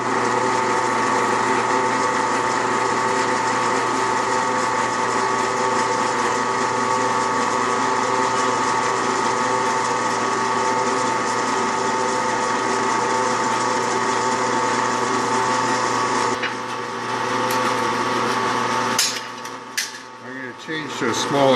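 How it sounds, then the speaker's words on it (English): An electric drill bores LED holes in a power management unit enclosure, its motor whining loudly and steadily for about sixteen seconds before winding down, followed by a few brief clatters. "now I'm going to drill out the holes for the LEDs"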